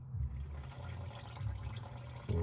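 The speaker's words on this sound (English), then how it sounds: "We'll let this pour out the rest of the way" Old engine oil draining from a car into a pan, a continuous low gurgling pour with a steady liquid trickle, close and fairly quiet, no speech.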